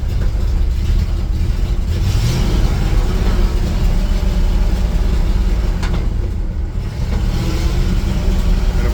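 Engine of a 1958 Dodge D200 4x4 truck with a freshly rebuilt carburetor, driving in very low gear, a loud, close, continuous low rumble with rattling and wind noise throughout.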